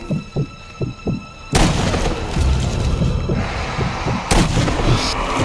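Gunfire in the Zombie Army video game: a few soft thumps, then heavy booming shots blast in and keep rolling in a loud continuous barrage with another sharp burst near the end.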